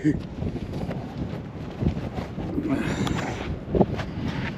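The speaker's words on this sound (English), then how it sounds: "The wind's real bad, right on the end of the road." Gusty wind buffets the microphone with a rough, fluctuating roar, a few louder bursts rising and falling over several seconds.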